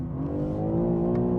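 A classic BMW M3 E30 Group A race car engine revs hard on track, pitch climbing and dropping through quick gear changes in a tight section, loud, close and continuous with no talking.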